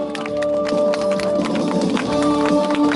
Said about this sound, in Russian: Аплодируем, аплодируем, друзья.